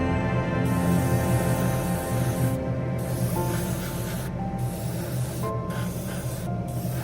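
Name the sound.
smaller airbrush spraying automotive paint on a model car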